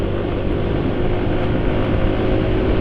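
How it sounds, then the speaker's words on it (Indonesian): A motorcycle engine running on Mavic XT oil, said to sound rough, holds a close, steady low drone with a gritty texture. "Jadi suara mesin masih ada kasarnya."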